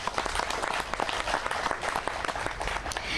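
Audience at a community celebration in the Nickerson Gardens housing development claps steadily, dense overlapping applause sustained throughout without speech.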